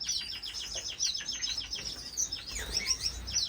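In an indoor aviary, grass finches give rapid, repeated high chirps in a dense run, close and continuous with a soft room hum underneath.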